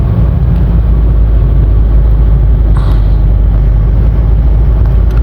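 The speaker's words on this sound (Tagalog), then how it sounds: "traffic na ngayon sa baba" Steady low road rumble from inside a moving vehicle on a congested highway, loud and continuous with no talk, and a brief higher swish about midway.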